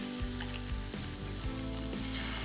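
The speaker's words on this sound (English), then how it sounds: "Listen to that sizzle." Steady, loud sizzling of filet steak searing in a hot pan, with crackling pops throughout.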